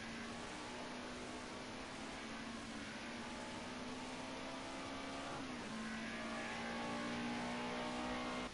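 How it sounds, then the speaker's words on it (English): Continuous engine drone from a BMW M3 E30 Group A touring race car at Silverstone National, a steady moderate whine that shifts pitch once, heard without talk. "he is ragging the life out of that BMW a little bit"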